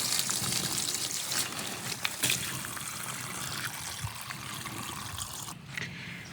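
Running water rinses soil off bamboo grass herb roots, a steady splashing trickle with a few sharper splashes and clunks, close by and without speech.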